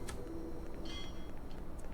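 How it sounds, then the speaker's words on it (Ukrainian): A train rolling past in Hitman: Codename 47, a steady low rumble with faint metallic squeals, short and fairly quiet throughout. "І знову їде потяг теж прямо."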